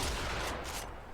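The Corinth, a heavy gun with a grenade launcher in the video game Warframe, fires in a dense, booming barrage that runs loud and continuous for about a second, with no voices.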